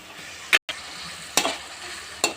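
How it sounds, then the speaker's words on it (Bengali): Pointed gourd (potol) frying in a pan, a steady close sizzle broken by three sharp scraping stirs, with one brief dropout in the middle. "ভালো করে আমি পটলটাকে ভাজি করে নেব"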